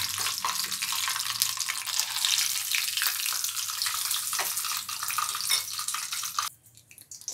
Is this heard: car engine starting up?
no